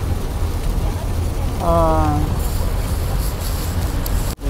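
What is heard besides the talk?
rain falling on a bridge drive in Yamaguchi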